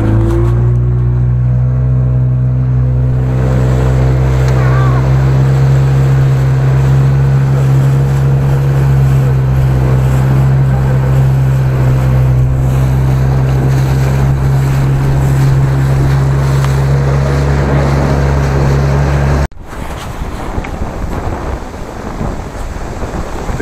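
A motorboat travelling on water gives a steady, loud motor drone with a low engine hum throughout, with wind buffeting the microphone, then the engine cuts out abruptly near the end.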